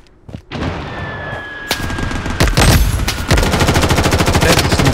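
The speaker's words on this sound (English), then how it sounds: "Under heavy fire!" Rapid automatic gunfire in the mobile battle royale shooter Blood Strike, loud and close, with bursts building into sustained dense rattling after a brief quiet opening and a few sharp single shots.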